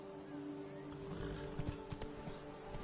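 Hooves of Roach, the horse in The Witcher 3, clopping at an easy pace with soft, irregular thuds over steady background ambience, a few hoof strikes standing out near the end.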